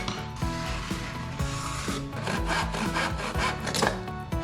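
Handsaw cutting a wooden board for a birdhouse, a rhythmic series of close, rasping back-and-forth strokes at a steady pace.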